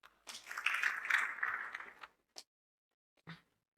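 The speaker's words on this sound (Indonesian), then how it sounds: "Tepuk tangan dulu." Brief burst of audience applause at an Indonesian motivational talk event, a couple of seconds of moderate clapping that fades, followed by quiet and a few faint isolated sounds.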